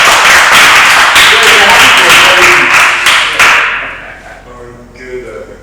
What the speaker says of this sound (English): You need another round of applause